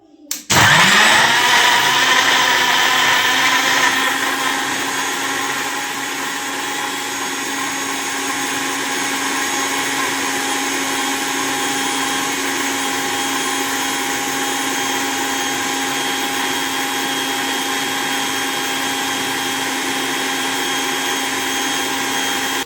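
A kitchen blender whirs to life and grinds chopped papaya with ice for juice, a sharp start settling into a steady loud motor whine that runs on unbroken for about twenty seconds.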